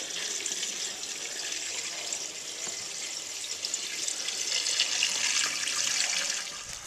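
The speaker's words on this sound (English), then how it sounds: "This is water addition into the boiler." Water runs from a hose into the boiler of a 1914 Stanley Steamer Mountain Wagon, a steady close hissing stream that grows slightly louder toward the end, with no talk.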